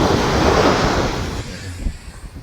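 Winter ocean waves at Eulwangri beach break loudly and close in a broad rushing surge, then recede into softer washing and wind buffeting the microphone.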